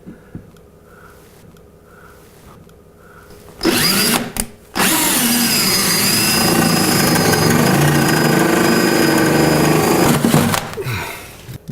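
After a few soft beeps, a power drill bursts on loudly, stops briefly, then grinds steadily through a cabinet for several seconds before winding down.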